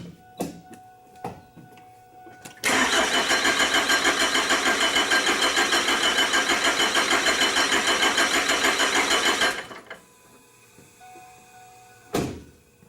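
A Cummins 4BT diesel engine in a Ford Expedition cranks for about seven seconds in a rapid, loud, rhythmic chug, then stops, with a few clanks and knocks before and after.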